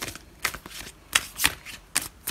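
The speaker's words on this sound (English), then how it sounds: "you can fast forward the shuffling if you would like to." Tarot cards are shuffled in quick, crisp bursts of riffling and flicking, about six distinct rustles spaced through a short, fairly close and quiet passage with no talking.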